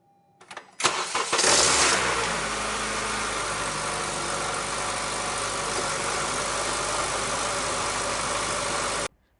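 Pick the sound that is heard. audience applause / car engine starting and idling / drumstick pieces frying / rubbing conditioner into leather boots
car engine starting and idling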